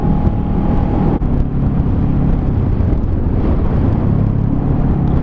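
A Honda CBR 500R motorcycle ridden in sixth gear, giving a loud, steady low engine drone with wind rush close to the rider and a brief dip partway through.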